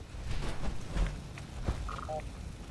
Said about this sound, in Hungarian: Én már jobban hallom a csipogást, ti is halljátok?